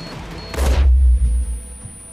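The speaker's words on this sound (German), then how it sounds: "eine Bombe ist explodiert" Bomb explosion in the video game Far Cry New Dawn, a single sudden loud blast with a deep low rumble that fades over about a second.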